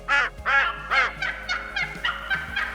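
Wild turkeys gobble repeatedly in a hunting game's ranch setting, a run of loud rattling bursts in quick succession, the first few strongest and the later ones slightly softer and more distant, with no talking.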